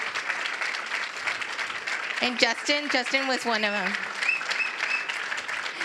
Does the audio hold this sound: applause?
yes